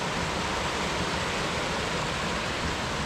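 Steady broadband rush of a river flowing past old stone ruins in Scotland, constant and fairly loud throughout with no voices.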